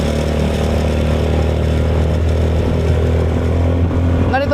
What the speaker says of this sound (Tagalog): Ganitong motor, walang problema.